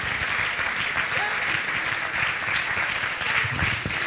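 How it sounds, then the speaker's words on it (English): A church congregation claps hands in praise during worship, dense continuous clapping up close with voices and low rumbling sounds mixed underneath. "Let's clap our hands and praise him today."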